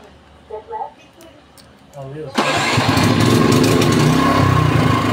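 A Toyohama 7500i inverter portable generator, started by remote, kicks in abruptly and settles into a loud, steady engine drone close by, after a few faint background noises.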